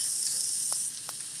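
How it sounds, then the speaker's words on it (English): Cooked onions hitting a hot frying pan in a vegan shrimp-style dish, a steady bright sizzle with a couple of soft stirring taps, close and continuous. "I'm going to toss in some cooked onions just first to start"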